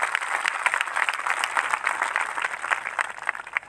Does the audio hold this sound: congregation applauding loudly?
yes